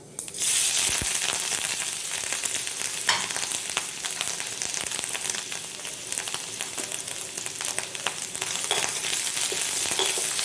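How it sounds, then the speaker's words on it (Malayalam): Cumin, crushed garlic and ginger crackle in hot ghee for a mutton and moringa leaf soup, a loud, close, continuous sizzle with a few sharp pops near the start. "നെയ്യൊന്ന് ചൂടായി കഴിയുമ്പോൾ ഒരു നുള്ളി ജീരകം ഇട്ട് പൊട്ടിച്ചിട്ട് നമ്മളിവിടെ ചതച്ച് വെച്ചിരിക്കുന്ന വെളുത്തുള്ളിയും ഇഞ്ചിയും കൂടെ അതിലേക്കിടാം"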